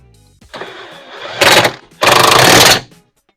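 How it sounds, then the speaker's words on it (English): A car's ball joint bolt, 16mm on the bottom, is tightened with a power tool in two loud bursts, a short one and then a longer steady buzzing run, with no talk. "tighten up my ball joint"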